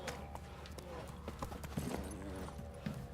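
Horse hooves clip-clop steadily in The Witcher 3 video game, a quick continuous trotting rhythm mixed with game music and ambient sound.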